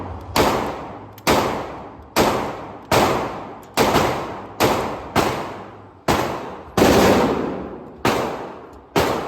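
Glock 27 pistol fired in a slow series of about twelve sharp, loud shots, each a hard crack with a decaying echo, spaced roughly a second apart outdoors.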